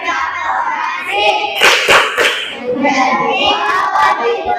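A classroom group claps in unison during a chanted water cycle clapping rhyme. Sharp bursts of hand claps are mixed with loud voices chanting together, all close and lively.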